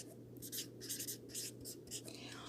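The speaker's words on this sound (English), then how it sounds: "I'm going to write the word attract." Marker strokes writing a word on a classroom board, several short scratchy squeaks in quick bursts with brief pauses, fairly faint over a low hum.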